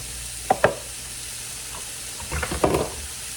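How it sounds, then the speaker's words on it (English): Mushrooms and shallots going into a hot pan for pork Wellington, giving two sharp sizzling bursts early, then a louder spitting, crackling fry toward the end over a low steady hiss. "we're going to really get a good bubble going here. And then we're going to put in the mushrooms"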